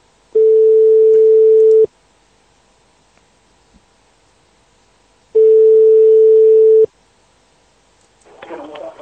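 A telephone line gives two long steady tones several seconds apart while a call is being placed, loud and clean over near silence, followed by a brief noisy burst at the end.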